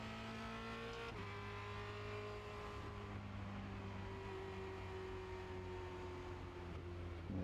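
A Formula Renault 2.0 race car on the Circuit de Barcelona-Catalunya, its engine a steady, sustained tonal drone that shifts pitch partway through, heard continuously from onboard at low level.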